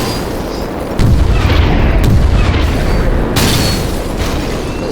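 A missile explosion in the naval air-combat game War Wings: a sudden loud boom followed by a sustained heavy rumble that fades slightly, with no voices.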